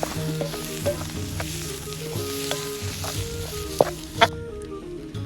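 Spices for a green moong curry are stirred in a frying pan, with a lively close sizzle, scattered spoon taps and two louder scraping knocks near the end, and no talking.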